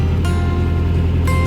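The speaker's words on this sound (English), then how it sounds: "Engine sounds okay." Diesel engine of a narrowboat running while cruising, a loud, steady low throb with a regular rhythmic beat, close and continuous, with no talk.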